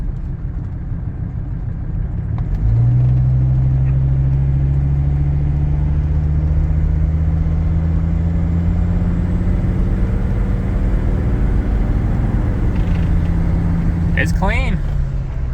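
A Mercedes parts car hums along while driving around a corner, its engine a steady, moderate drone with gradual pitch rises as it pulls, and a few short words spoken near the end.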